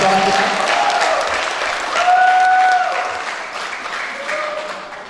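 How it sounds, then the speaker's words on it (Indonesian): Audience applause at a stage event, a dense, loud wash of clapping that carries on steadily throughout, with faint tonal sounds and murmurs under it. "Boleh apresiasi, tepuk tangan kembali untuk para jalan kita."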